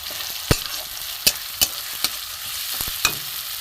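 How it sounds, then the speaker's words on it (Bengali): Grated radish and potato frying in a pan for radish chop, a steady sizzle broken by sharp, regular scrapes of a spatula stirring close by. "আগে মূলো আলুটা আমি একটু কষে নেবো"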